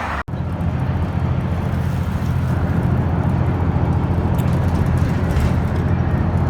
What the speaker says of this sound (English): On the number 1 bus going out to Rui